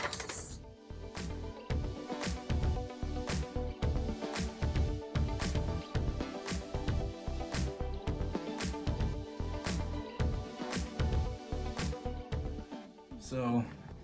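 A song streamed over Bluetooth plays in the background and is picked up faintly by a microphone, its steady, evenly spaced beat pulsing quietly throughout.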